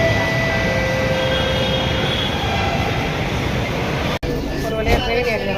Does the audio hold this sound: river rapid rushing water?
no